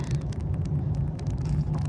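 A low, steady engine rumble in stuck traffic from inside a car, muffled and constant, with faint intermittent ticking and clicks on top and no one talking.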